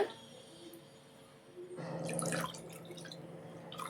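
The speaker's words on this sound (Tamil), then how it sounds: "2 கப்பு பால் எடுத்ததுக்கப்புறமா இது கூடவே 1 கப்பு தண்ணி சேர்த்துக்கோங்க." Water is poured into a bowl of semolina and thick milk for dosa batter, starting halfway through as a soft, close splashing trickle after a quiet, hissy stretch, fairly faint with no talk.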